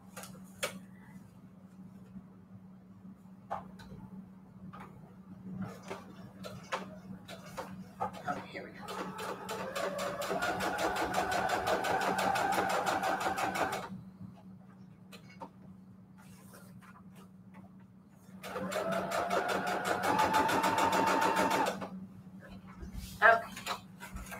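A sewing machine runs a straight stitch on string-quilt patchwork for a junk journal, two steady mechanical stitching bursts of several seconds each, separated by quieter handling and a constant low hum.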